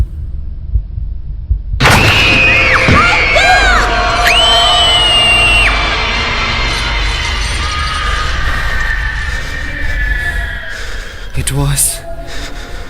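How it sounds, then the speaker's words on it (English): Many children howl, scream and cry together in a loud, chaotic chorus of wailing voices, with rising and falling shrieks over a dense crowd-like din. "I realized they were children, howling, screaming and crying"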